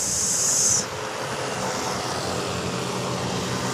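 A JJRC H36 toy drone in flight, its small motors giving a steady, close whirring hiss that is slightly louder at the start and then holds constant.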